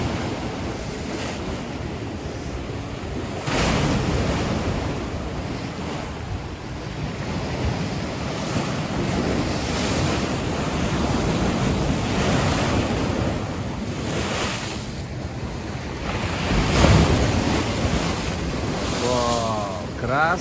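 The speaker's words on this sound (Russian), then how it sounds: "Прям большая волна идет." Heavy waves of a stormy Black Sea at night crash against a Yalta seafront, surging repeatedly amid constant roaring wind buffeting the microphone, rough and close, with no clear talk.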